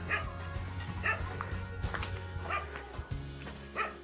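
A dog barks repeatedly at a moderate distance at Sudhagad Fort, sharp yips spaced about every second over a low background hum.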